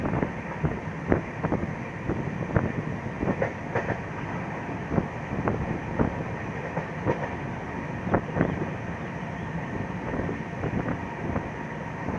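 An Indian passenger train, the Krishak Express on the line toward Mau, runs steadily on its rails with a continuous rumble and repeated clickety-clack wheel beats, heard close from on board with some wind buffeting.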